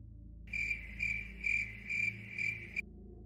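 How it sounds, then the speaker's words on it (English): Cricket chirping as a sound effect: five steady, evenly spaced high trills of about half a second each, clear and fairly close over a low background hum, with no voices. "Crickets."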